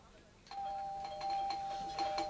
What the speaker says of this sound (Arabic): الجرس بيضرب، هشوف مين